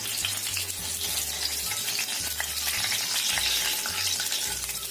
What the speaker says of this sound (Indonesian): Kemudian kita goreng sosis.